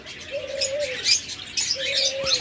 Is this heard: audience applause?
no